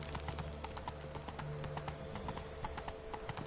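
Roach the horse in The Witcher 3 clip-clops along at a steady walking rhythm, hoofbeats close and clear over a low background hum.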